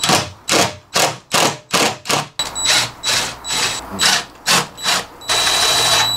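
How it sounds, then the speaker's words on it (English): A power driver sinks screws into pre-drilled vinyl-wrapped wood on a van's retractable screen door, with a steady rhythm of loud, evenly spaced whirring bursts close by. "Then we're gonna drive our screws in that we pre-drilled."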